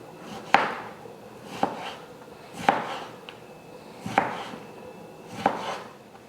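A knife chops through a carrot, cutting it into long strips on a board. Five sharp, evenly spaced thuds sound close and clear against a quiet kitchen background.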